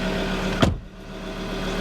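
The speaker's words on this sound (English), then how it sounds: "I'll shut the door, see if that helps you." A Ford Ranger door slams shut once, a single sharp thud over a steady idling hum inside the cab.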